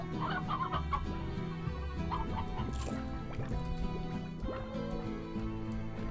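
Rooster clucking in the farming video game Slime Rancher, a steady stream of fowl clucks blended with busy game music and effects throughout.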